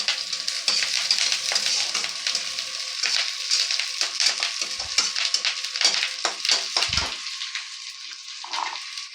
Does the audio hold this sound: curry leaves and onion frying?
yes